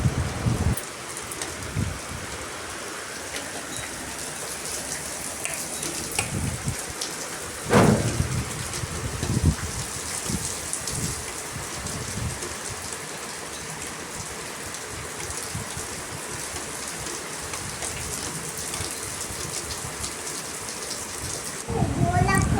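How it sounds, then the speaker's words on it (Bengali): Heavy rain pours steadily during an evening storm at a home, a dense continuous roar with a few louder thunder-like bursts, lasting throughout without speech. "আর প্রচণ্ড বৃষ্টিরও আওয়াজ হচ্ছে"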